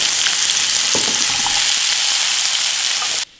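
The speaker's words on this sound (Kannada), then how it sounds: "ಎಣ್ಣೆ ಕಾದ್ಮೇಲೆ ಈಗ ಕಟ್ ಮಾಡಿರೋಂತಹ ಆಲೂಗಡ್ಡೆನ ಹಾಕೋಣ" Cut potatoes dropped into a pan of hot oil, a loud close sizzle that fills the whole clip with a few soft clinks in the middle, then cuts off abruptly at the end.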